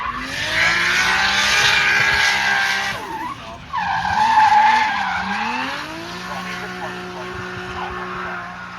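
Drift cars skid down the Cascade section of the track at Tunerfest North, engines revving and tires squealing in long sweeping wails that rise and fall, loud and fairly near, with an announcer's voice faintly underneath.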